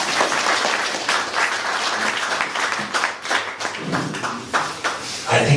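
A conference audience at an annual general meeting claps for a teacher after a speech, a close, busy round of hand claps with individual slaps standing out toward the end.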